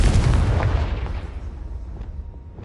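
A Confringo explosive spell in Hogwarts Legacy bursts with a loud, deep boom that rolls and fades over a couple of seconds.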